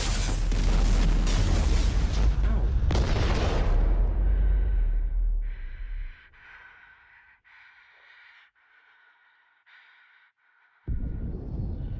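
Heavy booming explosions in Mass Effect 2 rumble loud and dense for several seconds, then fade, leaving thin electronic tones before another burst returns at the end.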